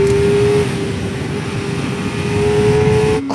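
A 2024 Kawasaki ZX-4RR sport motorcycle engine drones at high revs, a loud steady roar as the bike accelerates, then cuts off abruptly near the end.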